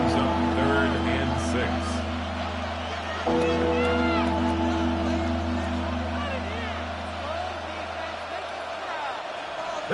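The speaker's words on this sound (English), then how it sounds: "This crowd into it now as we get to 3rd down." A stadium crowd in the Madden 26 football video game rumbles and cheers on third down, a steady roar under a commentator's play-by-play voice, with harmonic in-game music or tones running throughout.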